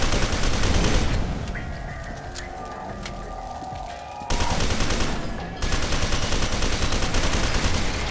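Rapid bursts of assault rifle fire in the shooter game F.E.A.R. 2, loud and dense, running in sustained volleys with brief lulls between them.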